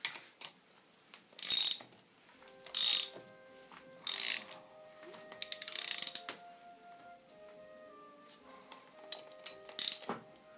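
A ratchet wrench turns the crankshaft of a Honda VF750F motorcycle engine during a valve clearance check, giving loud, close bursts of fast clicking separated by quieter metallic ticks and pauses.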